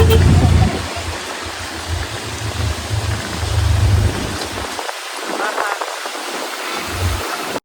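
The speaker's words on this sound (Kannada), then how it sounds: "ಜೋರಾಗಿ ಮಳೆ ತರಿಸ್ತಿದೆಯಲ್ಲ ಇವತ್ತು" Heavy rain falls outdoors, a dense, loud wash of noise with low rumbling swells that fade and return, and no clear voices over it.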